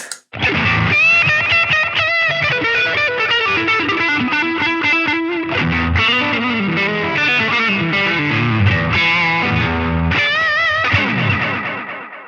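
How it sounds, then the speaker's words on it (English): An electric guitar plays lead licks through a NUX Atlantic delay pedal in its 60s mode with light overdrive, loud and continuous, the bright notes bouncing into repeating echoes with no talk. "I really like the 60s mode. Here's how that sounds with a little bit of drive."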